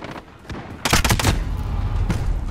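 Video game gunfire cracks out as a rapid cluster of close, loud shots, followed a moment later by another single shot over a steady background of game noise.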